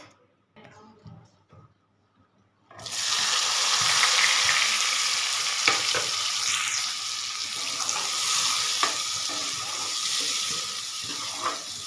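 Chopped onions hit hot oil in a kadhai and break into a loud, steady sizzle that runs unbroken after a few quiet seconds of faint kitchen movement, with occasional clinks of a spoon.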